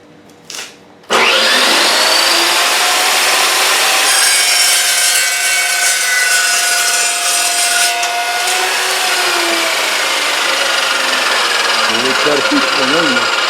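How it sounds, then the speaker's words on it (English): An Evolution EVOSAW380 saw cuts a flat piece of aluminum standing upright, starting with a sharp motor whine and settling into a loud, continuous grinding screech of blade on metal that trails off as it winds down. "This is the right way to cut flat piece, standing up straight."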